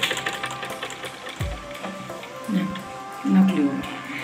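A sewing machine stitches fabric during a basic tailoring lesson. Its quick mechanical whirring runs in short stretches, with a voice speaking in between and over it.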